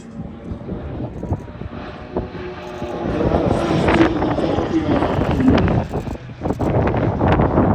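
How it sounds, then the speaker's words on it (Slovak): An aerobatic airplane with a Lycoming engine of more than 315 horsepower flies inverted, trailing smoke, at an air show. Its steady engine drone rises and swells through the clip, with wind buffeting throughout. "Štandardne takéto lietadlá poháňa motor Lycoming."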